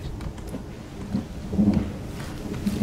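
Rumbling thunder from a storm in the survival video game The Forest, low and diffuse with a few swelling rolls over steady rain-like wash.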